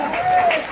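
Short burst of audience applause at a Hindi comedy and satire stage show, a dense patter of clapping with a voice briefly over it.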